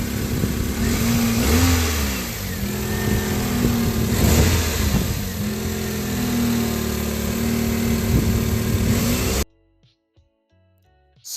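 Toyota Corolla E11 with a 1.3 liter engine, abandoned for three years, starts and revs: a loud, close engine note rising and falling in repeated revs for about nine seconds, then cutting off abruptly into near silence.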